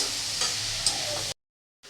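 Ridge gourd with fried egg and a little sugar is stir-fried in a pan, giving about a second of close sizzling with a couple of stirring scrapes before it cuts to silence.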